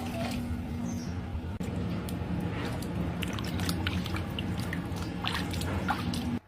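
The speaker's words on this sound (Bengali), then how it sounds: "এখন আমটাকে ধুয়ে নিব।" Raw green mangoes being rinsed in water by hand in a home kitchen, with steady sloshing and scattered drips over a constant background hum, no talking.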